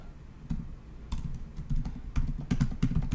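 Typing on a computer keyboard, a quick irregular run of close-up key clicks and taps with short pauses between bursts.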